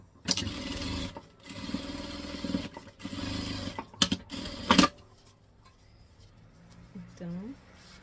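A sewing machine stitching fabric for a small storage box, a close, rapid mechanical whirring in several bursts with short stops between, then quiet handling and a brief spoken voice near the end.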